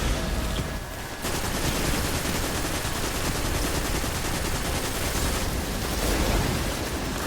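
Dense, continuous gunfire from a Destiny 2 firefight on Io, loud and unbroken across the whole stretch, with a brief dip early on.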